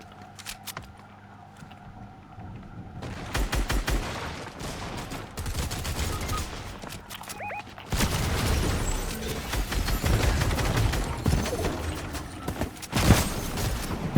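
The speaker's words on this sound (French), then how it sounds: "Ça tire." Video game gunfire during a Warzone Resurgence match: bursts of rapid shots and single cracks, some loud and close, others more distant, with mechanical clicks between volleys and sustained exchanges building toward the end.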